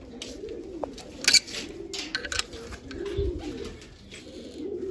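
Pigeons in a loft coo in low, soft, repeated calls close by, mixed with scattered rustles and a few sharp flutters or clatters of movement.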